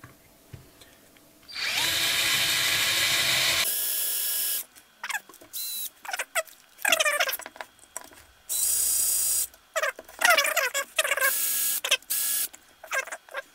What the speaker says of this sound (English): we use the big drill bit